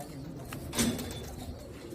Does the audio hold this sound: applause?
no